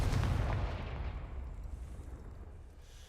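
A Confringo fire spell blast in Hogwarts Legacy lands as a loud booming burst up front, then a long rumbling tail that fades slowly over a few seconds.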